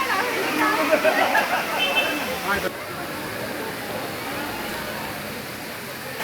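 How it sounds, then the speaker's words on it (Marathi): Heavy monsoon rain falls and water rushes through the waterlogged streets of Bhandup, Mumbai, as a steady broadband wash that is louder and busier for the first few seconds, then settles into a softer, even hiss. "मुंबईत मुसळधार पाऊस सुरू आहे"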